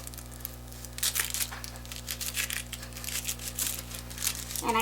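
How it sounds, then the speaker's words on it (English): A knife cuts a red onion in half, giving crisp crunching and crackling of the papery skin close up over a steady low electrical hum. "And now for the red onion here. And now I cut it in half like this."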